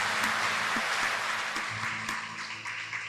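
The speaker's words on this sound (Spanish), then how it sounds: "Quiero que les regalemos un fuerte aplauso porque sin ellos esto no es posible." An audience at a live talk gives sustained, fairly soft applause from a distance. The dense clapping stays even for about three seconds, then tapers slightly.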